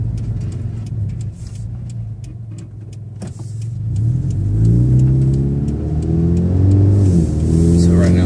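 An automatic Scion FR-S in sport mode revs loudly from the cabin while driving, the engine note climbing steadily in pitch and volume, with faint talk beneath it early on.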